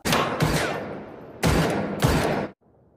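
Bursts of gunfire in a Korean assassin film scene, loud and close, with rapid volleys in three clusters, then an abrupt drop to a quiet tail.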